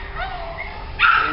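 A small puppy gives thin, rising yips and whimpers up close, ending in a sharper bark-like yelp, with a person's voice mixed in around it.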